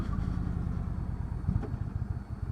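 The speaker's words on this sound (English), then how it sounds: "I'm just bringing this bit down by compression braking alone." A 2019 Indian Chieftain Dark Horse touring motorcycle slowing on engine braking alone, giving a steady low engine rumble with off-throttle burble and wind noise throughout.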